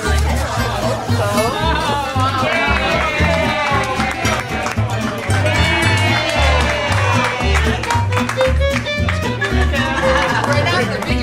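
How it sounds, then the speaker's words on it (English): Loud crowd cheering and shouting at a show, sustained across the whole stretch with dense overlapping voices over a steady low thumping beat, without a pause. "We're not the biggest crowd in the world, but we could be louder"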